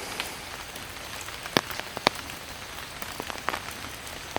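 Light rain falls in the Periyar forest as a soft, continuous patter, with a few sharper drops landing close by.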